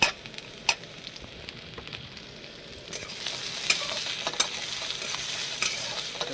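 Ginger, garlic and green chili paste frying with browned onions for a potato fish curry, a soft sizzle broken by sharp spoon scrapes and taps, rising in intensity after a few seconds.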